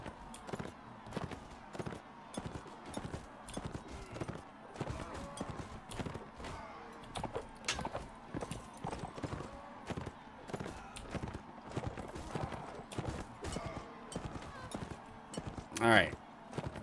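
Hooves of a horse clip-clop at a steady gait in the video game Mount & Blade: Warband. The quick, rhythmic, faint beats run throughout under a player's talk, with a brief louder burst near the end.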